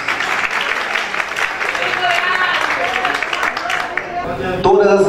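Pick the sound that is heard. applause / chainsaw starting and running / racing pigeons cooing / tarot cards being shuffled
applause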